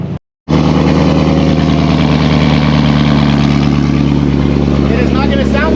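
A car engine idles before its exhaust downpipe is swapped, a loud, steady low rumble after a brief cut, running continuously near the microphone with a voice talking over it.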